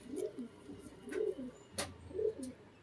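Pigeons coo softly at close range in a short, repeated rhythm of low coos, quiet overall, with a few faint higher chirps between them.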